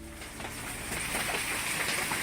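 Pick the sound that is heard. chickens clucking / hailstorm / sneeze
hailstorm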